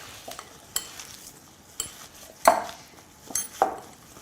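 Lamb kebab mixture being worked by hand with fresh coriander in a bowl, giving a few sparse soft squelches and light bumps against the bowl, quiet and close, with no talking.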